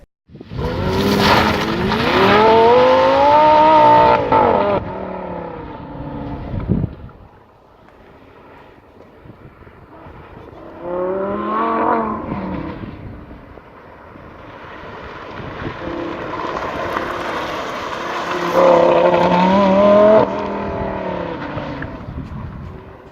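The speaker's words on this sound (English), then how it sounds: "It literally sounds like a raging bull right behind your seats." A powerful Lamborghini engine mounted behind the seats roars close by, revving up and down in several surges with brief quieter lulls between them.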